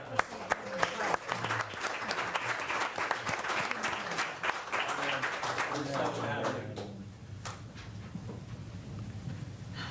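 Audience at a village council meeting breaks into loud applause with cheering, sustained for several seconds before tapering off, with voices mixed in toward the end.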